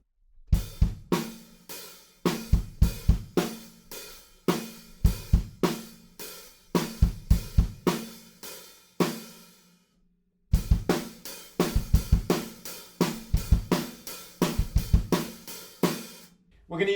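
A drum kit plays a verse groove, with punchy kick drums and steady hi-hats repeating in close, loud bars. A short gap falls midway before the pattern resumes.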